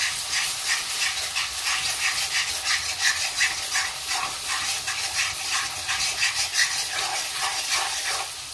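Onion paste sizzles steadily in hot oil in a home kitchen pan while local chicken is being cooked, a dense continuous frying hiss with quick crackling pulses, close and fairly loud, with no talking.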